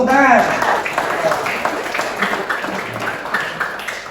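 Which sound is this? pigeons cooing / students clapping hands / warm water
students clapping hands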